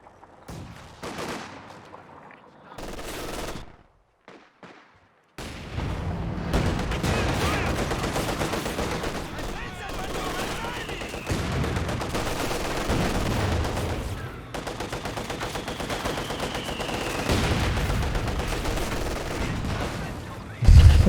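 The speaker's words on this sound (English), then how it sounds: "Good machine gun position for Jibber." Gunfire in a video game battle with machine gun and rifle fire, heard as loud dense bursts of shots with brief gaps and a booming impact at the end.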